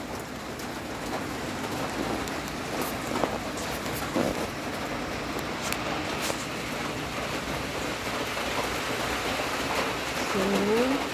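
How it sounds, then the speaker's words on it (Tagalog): Steady rain falls in Cavite, Philippines, a soft continuous patter on surfaces with a few louder drops standing out, faint and even throughout. "Maulan."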